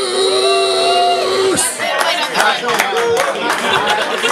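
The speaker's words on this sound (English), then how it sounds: "I want y'all to start clapping right now." A live crowd at a stage show in a barn house cheers, whoops and claps for a performer as he takes the stage, loud and dense, with a voice shouting over the noise.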